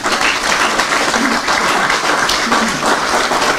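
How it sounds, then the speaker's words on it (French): Steady, dense applause from a large crowd at a general assembly of FECAFOOT, Cameroon's football federation, filling the room for the whole stretch, with faint voices mixed underneath. "ça mérite beaucoup plus d'applaudissements"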